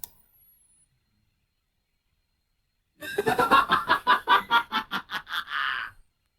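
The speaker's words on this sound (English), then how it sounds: "that's a bit of a creepy, evil sounding laugh" After a few seconds of silence, an AI-generated, processed, cackling evil laugh effect bursts out in rapid pulses, ending with a drawn-out final note.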